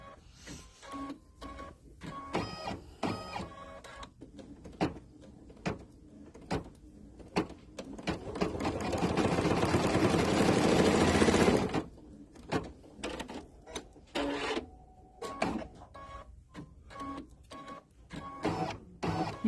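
An embroidery machine stitches out a felt, leather, glitter and tulle jar topper project, a steady mechanical whir rising to a dense, louder burst mid-way, set among clattering handling noises, with no talk.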